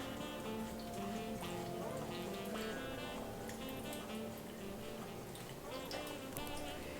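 Water dripping and trickling from a block of frozen-then-thawed tofu squeezed by hand over a kitchen surface, small irregular drips and wet squishes heard fairly close over a faint steady background hum.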